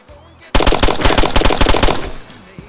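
M4 rifle fire in a video game: a sudden loud burst of rapid automatic shots after a quiet start, the rattling volley lasting about two seconds before cutting off.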